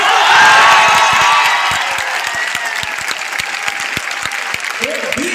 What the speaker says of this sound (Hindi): क्या हम उसके लिए खड़े होकर एक बार ताली नहीं बजानी चाहिए?